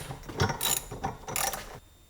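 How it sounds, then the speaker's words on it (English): A 3/4 inch socket turns a camper jack screw, giving a few short, close metallic ratcheting and grinding bursts that stop abruptly, with no talking. "I found a 3/4 inch socket actually fits on the end of that jack screw there. So let's just unscrew it that way."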